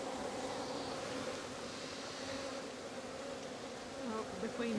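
A swarm of honeybees, with many fallen to the ground, fills the air with a dense, continuous buzzing hum that stays close and steady throughout.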